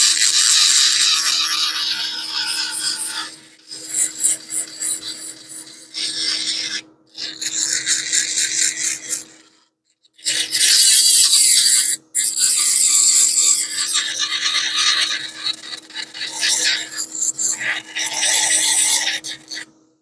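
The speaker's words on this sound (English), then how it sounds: "You can use the fine burrs, the sharp burrs, and to release those areas and smooth them." A sharp dental burr smooths an acrylic denture base in steady, rasping passes, loud and close, broken by several brief pauses between strokes.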